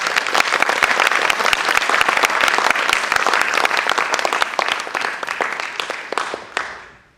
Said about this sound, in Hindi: तो एक बार तालियों स्वागत कर दीजिए